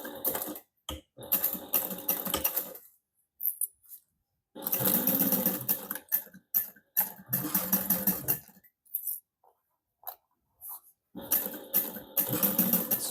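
A sewing machine bastes Minky stocking fabric with a quarter-inch seam, running in several close bursts of rapid stitching separated by brief pauses.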